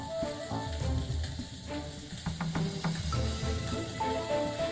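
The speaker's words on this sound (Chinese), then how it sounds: "再用备好的底油炸香大量蒜末，" Minced garlic, a large amount, sizzles as it fries in hot oil in a wok, a steady close hiss with crackling pops throughout, under background music.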